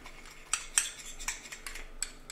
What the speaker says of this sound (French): Une belle pincée de sel par contre. Voilà, un peu d'huile d'olive. On mélange le tout.